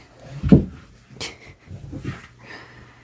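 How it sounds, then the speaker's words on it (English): A loud, brief thump with a soft body impact near the start as a puppy flops down, followed by quieter rustling and light panting. "That loud noise was my little puppy flopping down."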